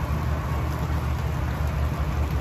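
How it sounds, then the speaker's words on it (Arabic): Steady rainfall, a dense even hiss of drops with a low rumble underneath, continuous and fairly loud with no voices. "افتح الستائر حتى اشوف نزول المطر"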